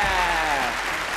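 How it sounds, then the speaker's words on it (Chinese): A studio audience bursts into dense, steady applause for four magic-contest contestants on a television stage, loud and continuous throughout. "我再俾掌声4位参赛者"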